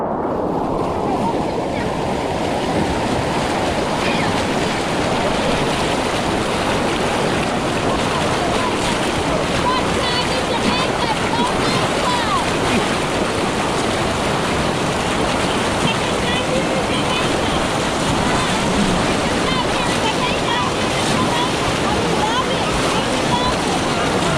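Strong river water at Cherry Hill Falls rushes in a steady, loud, broadband roar with no pauses, close by, with wind buffeting the microphone throughout.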